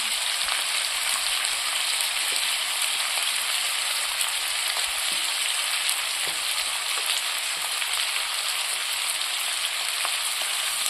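Vegetables with garlic sauté in a hot pan, giving a steady, even sizzle and crackle with no talking over it.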